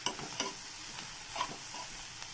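Beetroot momo stuffing being sautéed in a pan, a soft steady sizzle with occasional light stirring scrapes and taps, close and fairly quiet, with no talking.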